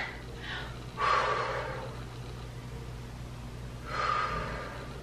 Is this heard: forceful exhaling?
yes